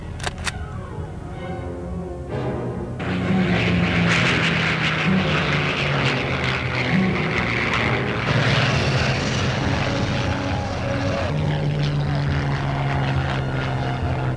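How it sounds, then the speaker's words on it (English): German Messerschmitt Me-109 fighter making a low pass over lines at a WW2 D-Day re-enactment, its propeller engine droning loudly and steadily as it flies over, swelling and holding near with a rough, throbbing hum. "A lone German Messerschmitt Me-109 makes a heroic pass over the German lines."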